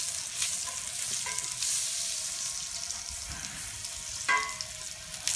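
Butter, garlic, herbs and seasoning being stirred together in a hot pan, a soft continuous sizzle with scraping stirs and a brief clink, close and steady without speech.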